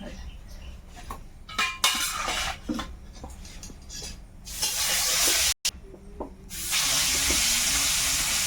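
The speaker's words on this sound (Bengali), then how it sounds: "দুটো কড়াইতেই একসঙ্গে তেল দিয়ে দিচ্ছি এক পাশে কুমড়ো এক পাশে ঢাঁড়" Pumpkin frying in hot oil in a wok beside another wok of okra, cooked outdoors in the Sundarbans: a few clinks of utensils come first, then a steady loud sizzle takes over for the second half.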